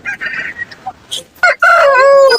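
A rooster crows loudly and close by at the Kunnathur livestock market, a long rising call after a few short sounds and brief noises.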